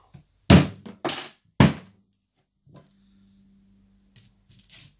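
A brittle, glass-hard glued object breaks apart into many pieces. Three sharp, loud cracks and thunks come close together, followed by a faint low hum and a few small clicks in an otherwise quiet space.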